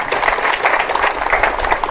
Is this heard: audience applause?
yes